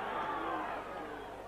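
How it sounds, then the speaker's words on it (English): A large football crowd roars steadily in the stadium, backing Dundee United during a 1985/86 UEFA Cup tie against Vardar Skopje, a dense, continuous wash of voices with no single voice standing out. "There's a good crowd here tonight for this match. And listen to them giving United encouragement."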